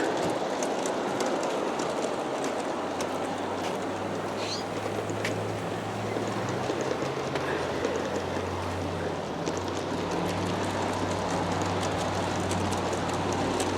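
A G scale 1/29 D&RGW model train with about 40 cars rolls steadily along outdoor track around 10-foot diameter curves, a continuous low rumble and hum with faint clicks of wheels over rail joints.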